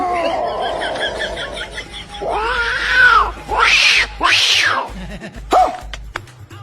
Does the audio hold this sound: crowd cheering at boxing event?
no